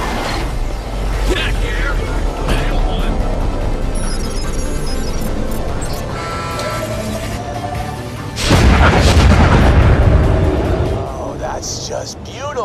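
A moonshot cannon fires in the video game Borderlands: The Pre-Sequel, a deep heavy boom rising out of a rumbling mechanical backdrop and lingering for a few seconds, with a voice speaking over the scene.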